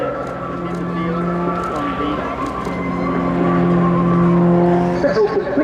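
An Extra 330LX aerobatic plane in a spin at an airshow, its engine a continuous droning buzz whose tone wavers and climbs slightly, heard from a distance with crowd and wind noise.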